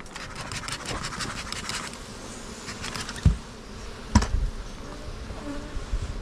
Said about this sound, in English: the bees are coming up